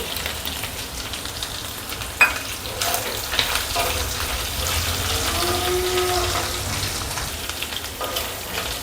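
Curry leaves and green chilies fry in hot oil for soya fried rice, a steady close sizzle with stirring scrapes, one sharp clink near the start and a faint low hum underneath, no talking.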